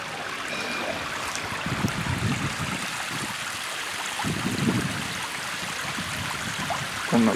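Water from a burst water main cascades down a sloping street in Alcamo, a steady rushing, gurgling roar with some wind buffeting, continuous throughout.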